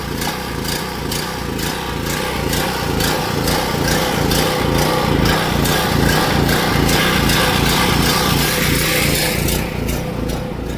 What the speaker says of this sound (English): Generator ain't having that no more. Don't die on me.